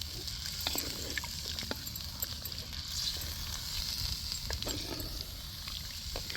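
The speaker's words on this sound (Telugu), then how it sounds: "చికెన్ కూడా వేసాము అది కలపరా ముక్కగా మొత్తం మసాలా అంతా బాగా పట్టాలి" Chicken pieces sizzle and fry in a spicy red masala curry as they are stirred, a steady close hiss broken by scraping clicks and clinks of the stirring spoon against the pan, with no talking.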